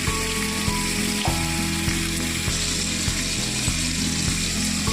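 Vegetables and tomato frying in a pan for an egg curry, a loud continuous sizzle over a low humming stove or fan drone with regular pulsing, no speech.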